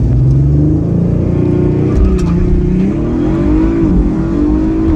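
An Audi RS5 Sportback launches hard in a drag race against a Mustang 5.0 at a street legal dragway, its engine loud and close, revving and rising steadily through the gears with no talk.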